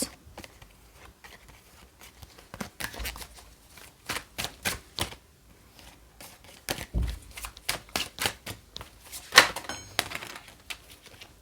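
Tarot cards handled and laid out on a surface, with scattered soft slaps, flicks and taps at an uneven pace, close but fairly quiet, and a louder thump partway through, without speech.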